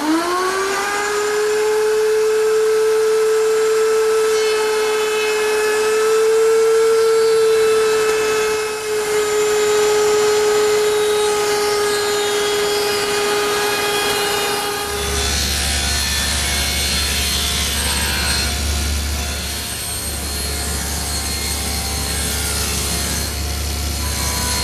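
Router table fitted with a 1/4 inch roundover bit and feather boards rounding the corners of 3/4 inch square wood stock: a loud, steady motor whine with cutting noise, then a rougher rumbling wind-down.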